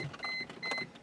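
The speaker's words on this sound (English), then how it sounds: "what I'm gonna do now is open the windows" A Mercedes-Benz's electric window motor whirs briefly, a smooth mechanical hum close by, with no talking.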